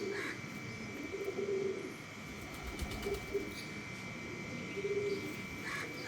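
Teddy pigeons coo softly and repeatedly in a loft, a gentle low warble under faint steady background noise, with no talking.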